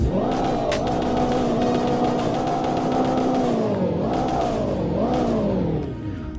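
A Honda Civic Type R engine revs hard and holds a loud, buzzing drone, dipping and surging again in a few quick blips before easing off.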